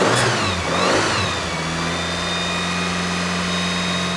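A Mitsubishi Lancer GSR engine on a cold start, rising in a couple of quick revs before settling into a steady, slightly uneven idle, loud and close, with no talking.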